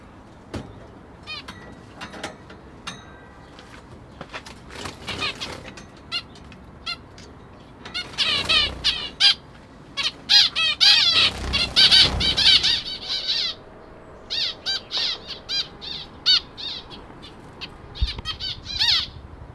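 Zebra finches fly around a newly built wire aviary. Repeated bursts of flapping wings and the odd soft bump mix with sharp, chattering calls that swell and fade. The sounds come close and loud.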